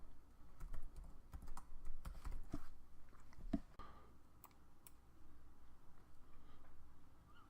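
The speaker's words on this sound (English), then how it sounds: "Type in the name of our website." Fingers type on a computer keyboard in quick irregular bursts of clicking keys, a few louder taps standing out, fairly close and with no talking.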